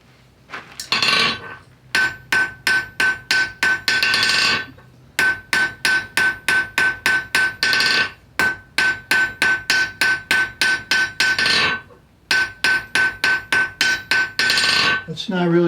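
Rhythmic metallic blacksmith hammer strikes on an anvil, the hammer dropped with a relaxed grip, ringing clinks in fast bursts of about a dozen blows each, separated by short pauses, loud and close.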